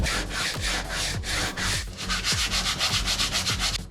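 Wood being sanded by hand to make sawdust for filler, a loud close rasping scrape in steady back-and-forth strokes, roughly two per second, continuing without pause and with no voices.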